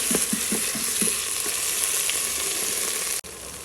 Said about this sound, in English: So I'm just going to go ahead and stir this up some more.